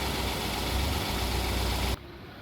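A 2020 Kia Sedona with the 3.3-liter engine idles steadily up close, a constant low rumble and hum that cuts off abruptly near the end.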